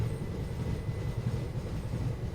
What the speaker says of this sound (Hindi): अभी ट्रेन काफ़ी रुक के चल रही है, बहुत ज़्यादा रुक रही है ट्रेन।